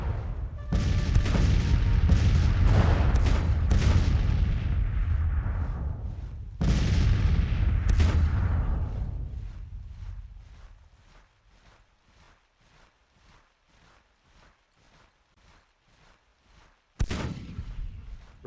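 Artillery cannons in Grand Tactician boom in a rolling series of heavy shots that layer into a thunderous roar. The reports then fade into a long ringing tail, and a further loud blast comes near the end.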